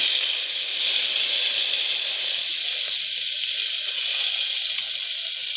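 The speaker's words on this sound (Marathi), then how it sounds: "तेल गरम झालं की सगळ्यात आधी टमाटा घालूया।" Tomato dropped into hot oil in a pressure cooker for pav bhaji, a loud continuous bright sizzling hiss that holds steady and eases slightly toward the end, with no talk.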